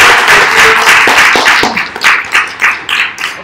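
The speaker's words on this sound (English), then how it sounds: "give her another round of applause" Round of applause from a small audience at a Ruby Tuesdays KL developer meetup, a brief burst of clapping that thins into a few scattered claps before fading.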